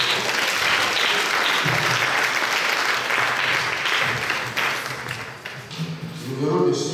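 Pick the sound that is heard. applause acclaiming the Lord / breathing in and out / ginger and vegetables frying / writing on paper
applause acclaiming the Lord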